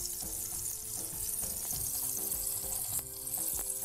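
Chili and ginger-garlic paste sizzle in hot tempering oil for Bread Khima Karanji, a close, continuous crackling hiss with small pops, steady and without talk.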